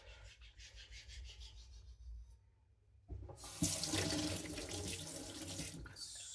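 A knife blade being sharpened on a wet Naniwa Aotoshi green whetstone, with close, gritty rubbing strokes and running water that grows louder halfway through and continues to the end.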